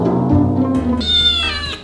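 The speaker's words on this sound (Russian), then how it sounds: "Она все время мяукает." A kitten meows persistently in a long, loud, drawn-out cry that shifts pitch partway through and climbs into a higher, whinier wail, heard close and alone without speech.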